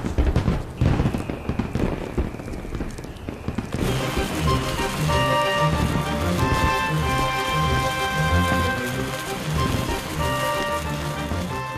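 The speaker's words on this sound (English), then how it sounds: "The storks seem unruffled by the fireworks." Dense crackling and popping fireworks bursts at a summer solstice celebration fill the clip continuously after a brief quieter start, loud and steady.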